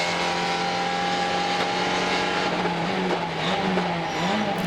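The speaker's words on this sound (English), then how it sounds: "Again, heavy braking" Supercar Challenge race cars at the Assen circuit, a fast motorcycle track, brake hard into the chicane; a loud, steady engine drone with shifting pitch and a descending note runs throughout, close and continuous.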